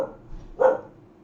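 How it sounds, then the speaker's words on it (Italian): A small female dog gives a single sharp bark partway through, fairly close, in an otherwise quiet indoor room with no talk. "c'ho la cagnolina che abbaia"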